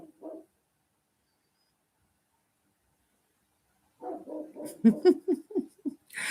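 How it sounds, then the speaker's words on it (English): A dog barks outside, a short bark at first, then after a quiet gap a quick run of several barks, slightly muffled and distant. "Can you hear him barking outside?"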